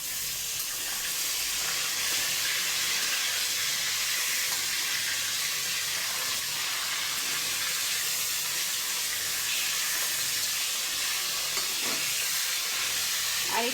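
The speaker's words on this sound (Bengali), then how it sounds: "আর এখান দিয়ে পাঙ্গাস মাছটা এখন উল্টাই দিব। কড়া ভাজা হয়ে গেছে।" Pangas fish fries hard in oil in a kadai, a dense, even sizzle close up that holds steady throughout at a strong level.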